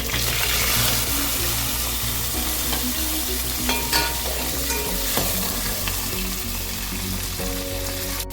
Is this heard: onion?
yes